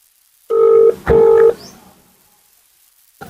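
A telephone call goes unanswered: two short electronic ring tones sound close and clear, each about half a second long with a brief gap between them, followed by silence and a faint click at the end.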